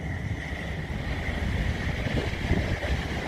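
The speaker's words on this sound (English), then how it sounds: "The rain and the wind and just everything mixed together." Stormy outdoor weather in Amsterdam during Storm Ciara, with wind and rain roaring as a steady, dense wash of noise that swells slightly and never lets up.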